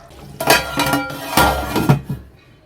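A metal lid set onto a cooking pot of quail curry, a few close clanks and rattles over under three seconds, then quiet.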